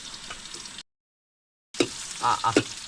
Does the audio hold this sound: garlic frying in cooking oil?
yes